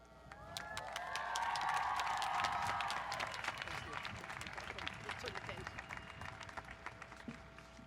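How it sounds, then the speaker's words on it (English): Applause and cheering from a high school commencement crowd greeting the graduating class of 2017, swelling to a dense peak early and then thinning into scattered claps and whoops, with a little background speech. "Give them a round of applause, please."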